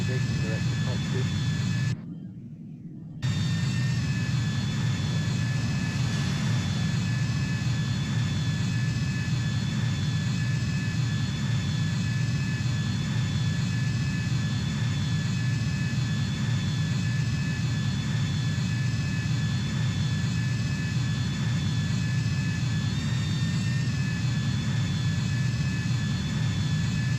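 Jet aircraft engine in a flight simulator game, a steady continuous roar with a low rumble and high whine throughout, briefly cutting out near the start, with a person talking over it.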